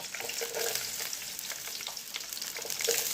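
Green chillies and onions fry steadily in a pan for an Andhra onion-stalk fish curry, a close, continuous hiss and crackle with a few brief utensil scrapes, no voices.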